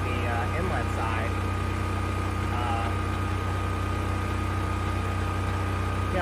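Steady, loud engine drone from a Predator portable generator running inside an enclosure, with a constant low rumble, running evenly throughout while faint voices come and go in the background.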